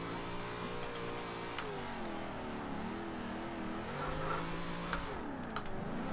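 In the racing game Forza Horizon 2, a tuned drift car's engine holds a sustained, wavering howl as revs rise and fall through a slide, with brief tire scrubs, steady and moderately close.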